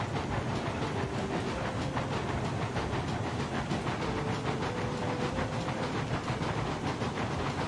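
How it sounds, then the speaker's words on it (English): Locomotives in the video game Railroads Online rumble along on a coal mine run, a dense, continuous chugging with rhythmic clatter and occasional faint whistle tones, steady and loud throughout. "Locos are sounding good so far."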